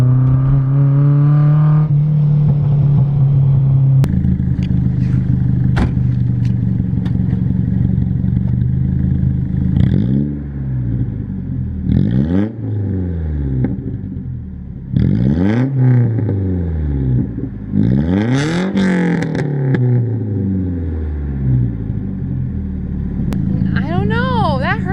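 A Nissan 240SX engine revs hard under acceleration through a loud exhaust, close and dominant, with repeated rising and falling sweeps as it climbs through the revs and eases off, while people talk over it.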